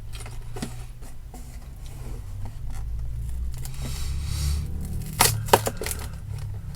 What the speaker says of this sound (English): Look at that ASMR of opening up this box.